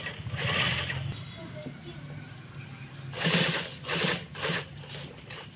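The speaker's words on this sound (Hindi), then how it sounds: "ये किनारे की सिलाई मारनी है यहाँ पे भी।" A sewing machine stitches along the edge of a men's kameez shirt cuff in short, close bursts of whirring, separated by pauses in which a person speaks.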